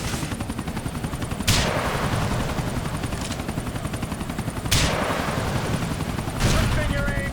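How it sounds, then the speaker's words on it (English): An attacking helicopter in a video game, a loud steady rotor thud with bursts of gunfire and a few sharp explosive hits spread across the scene, voices talking underneath. "Get rid of the chopper with it."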